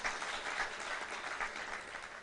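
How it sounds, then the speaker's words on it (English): A lecture audience claps for a peace garden founder, a brief, dense patter of hands throughout the short stretch, moderately loud and without speech. "He deserves a clap."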